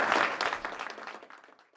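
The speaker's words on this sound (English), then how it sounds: "I believe that Girard deserves a big round of applause for all the job he's been doing in Bhutan." An audience at a startup business talk gives a short burst of applause for Girard, loud at the start and quickly thinning out into scattered claps over under two seconds.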